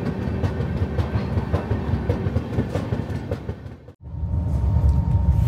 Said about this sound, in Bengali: ট্রেন এসে পৌঁছালো তালচের রোড